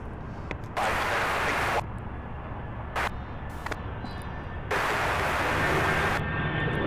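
An aircraft departs Louisville's SDF airport with a steady, distant rumble. Loud broadband bursts come and go over it, with no talk.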